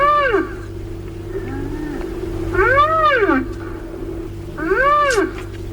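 A rhinoceros gives three separate rising-and-falling squealing cries, loud and close against a low, steady background hum.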